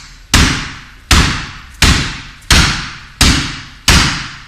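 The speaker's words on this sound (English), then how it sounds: "the second sound is a thud" Full Wing Chun kung fu strikes thud into a punching bag: six loud, heavy, evenly spaced impacts with a deep body and a sharp crack on each hit, close up and alone.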